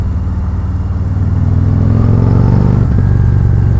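Harley-Davidson 2019 Road Glide Special bagger with aftermarket slip-on exhausts, a loud steady engine rumble that swells slightly as it rides, continuous and close with no talk.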